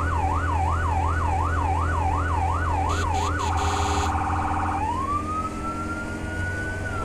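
A fire engine siren wails in a firefighting simulator game on a tight mountain road, rising and falling in a rapid cycle, switching briefly to a faster yelp, then winding up into a long steady tone over engine rumble.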